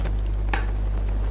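A washing machine runs with a steady, loud low hum that stays constant throughout, while a brief clink and rattle rise above it partway through.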